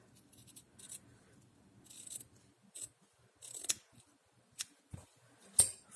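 Scissors trim book cloth at a corner for a mitered fold, a series of close, quiet snips and sliding blade sounds with short pauses, ending in a couple of sharper cuts.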